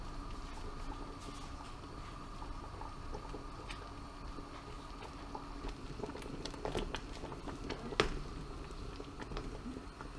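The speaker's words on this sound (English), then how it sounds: "Got up to a real nice boil there." A pot of distiller's beer grain mash for moonshine boils hard, giving a continuous rumbling, bubbling roar with dense irregular pops and spatters.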